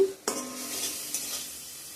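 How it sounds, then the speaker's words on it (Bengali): Spice paste (masala) frying and being stirred in a pan, a sharp scrape near the start giving way to a steady close sizzle with another stir stroke midway. "মশলাটা ভালো করে কষানো হয়ে গিয়েছে এখানে"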